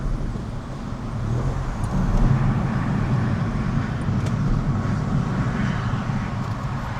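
A Mini Cooper S driving in traffic, its low engine drone and road rumble steady and fairly loud throughout, with a slight swell midway.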